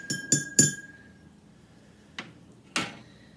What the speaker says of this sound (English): And I'm gonna take my spoon and I'm gonna stir it.